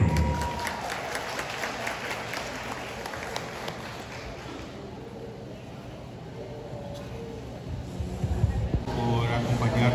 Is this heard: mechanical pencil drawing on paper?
no